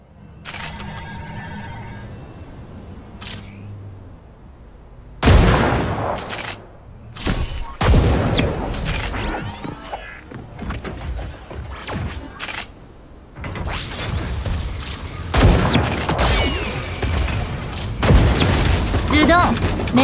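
Gunfire crackles through a session of the mech shooter game Super Mecha Champions: sharp shots and booming blasts in bursts and volleys, some rapid and layered, mixed with game effects and a voice speaking at times.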